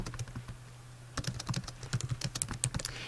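Rapid clicks from a computer keyboard come through up close as a question is typed, running in an uneven, quick patter with a brief pause early on.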